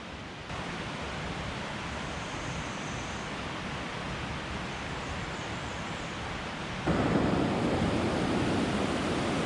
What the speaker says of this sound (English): The Linville River is still raging.